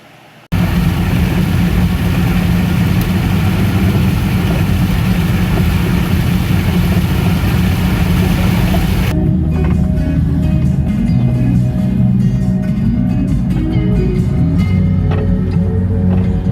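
A car engine drones loudly and continuously while driving, a steady low rumble heard from inside the vehicle that briefly shifts in tone partway through.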